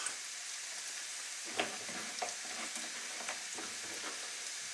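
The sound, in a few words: onions and carrots frying over high heat for Cantonese rice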